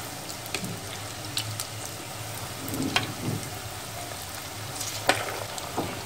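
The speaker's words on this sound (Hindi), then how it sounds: "गोल्डन ब्राउन होने तक सेकेंगे।" Bread potato rolls frying in hot oil over a medium gas flame, giving a steady close sizzle with a soft crackling bed and sharp pops scattered throughout, no voices.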